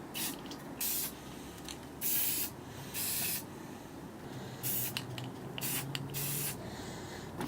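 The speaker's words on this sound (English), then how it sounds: "And all you honestly need to do is just a couple sprays like that." Spray paint cans misting in short bursts for a painted backdrop, several close hissing sprays of about a second each separated by brief pauses.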